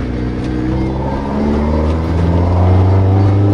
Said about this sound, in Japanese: 吸気音すごい。